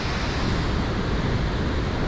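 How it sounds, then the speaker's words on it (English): Elk Falls, a large waterfall on Vancouver Island feeding the Campbell River with increased flow, pours in a dense, steady roar of rushing water, loud and unbroken with no other sounds. "The Elk Falls flows directly into the Campbell River"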